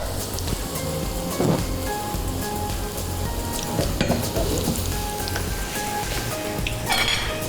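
Paneer pakoras deep-fry in hot oil with a loud, dense, continuous sizzle like heavy rain, steady throughout with occasional crackles and light clinks of a utensil.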